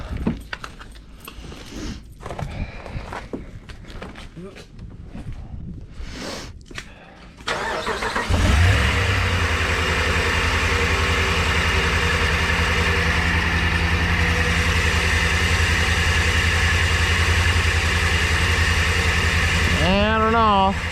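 A truck engine cranks and catches after a tensioner pulley repair, then settles into a steady, loud idle with a constant hum. Quieter shop noise comes before the start, and a rising whine appears near the end.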